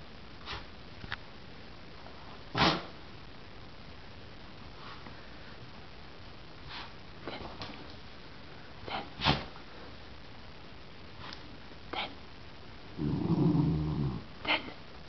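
Close, intermittent snuffling sniffs from a dog, scattered through a quiet stretch, followed near the end by a low rumbling growl.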